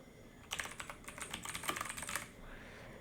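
Rapid keystrokes rattle on a computer keyboard in a quick burst of about a dozen close, crisp taps lasting under two seconds, then stop in a quiet room with no voices.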